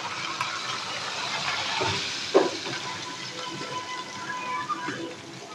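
Hot tadka tempering with paprika poured into a chicken and chickpea curry, giving a steady close sizzle and hiss with a brief splash and bubbling pops, no talking.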